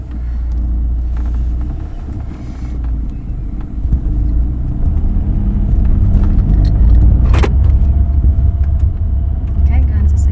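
A manual car pulls away from a complete stop, its engine rumble building steadily from inside the cabin, with a brief jangle of keys partway through and a person talking over it.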